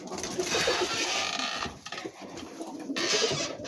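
Trumpeter pigeons, including young birds, cooing in a breeding loft, soft repeated low coos over a busy hiss of background noise, fairly faint, with no clear talking.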